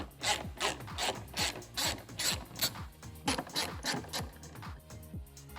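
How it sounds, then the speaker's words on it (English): A hand ratchet removing 7mm bolts from a 2019-2023 Ford Ranger tail light, clicking in quick close rapid bursts with brief pauses between strokes. "to remove this bliss module, what we're going to do is we're going to remove these four 7mm bolts"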